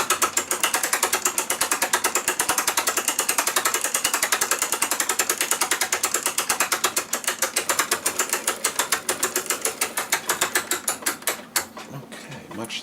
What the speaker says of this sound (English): we're going to loosen it until the spring comes all the way open